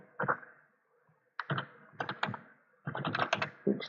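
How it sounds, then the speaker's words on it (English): Bursts of keyboard typing on a computer keyboard, quick clustered keystrokes in three runs separated by short pauses, close and moderately loud with no talk. "So I'm gonna type"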